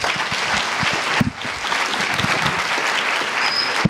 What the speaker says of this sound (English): Can we get one more round of applause for him?